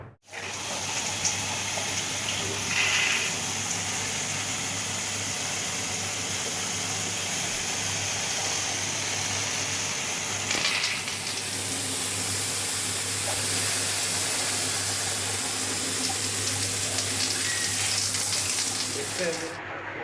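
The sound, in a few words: water sprayed under pressure to clean a window AC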